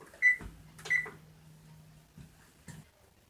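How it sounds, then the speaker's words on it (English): Oven control panel being set to 350 degrees in a home kitchen: two sharp electronic beeps close together, then fainter clicks and a last soft beep, with a low hum in between. "Now I have to set the oven to 350 degrees."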